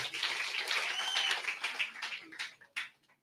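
An audience applauds invited guests at a career coaching session, a dense wash of clapping that holds steady and then thins into a few scattered claps near the end.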